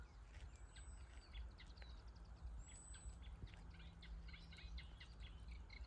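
Busy, chattering reed warbler song keeps going in the background at a moderate distance, steady and repetitive over a low outdoor rumble.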